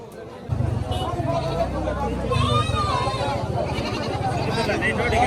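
A goat bleats at a busy village livestock market in Guimara, Khagrachari, its wavering cries rising above a dense babble of people talking and haggling nearby, with steady crowd noise throughout.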